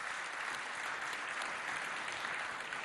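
An audience applauds at a school dance competition between Collège Abdoulaye Moussa and Collège Félix Eboué, with dense, steady clapping that fills the room evenly from start to finish and no voices on top.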